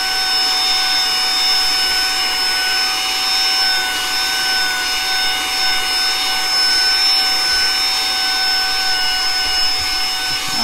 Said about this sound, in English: Try this mini vacuum here in the car, and let's see how it does here.